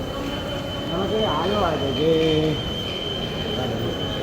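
A Kochi metro train runs toward Kaloor stadium, giving a steady rolling rumble with a rising and falling wheel squeal in the middle, while faint voices murmur in the carriage.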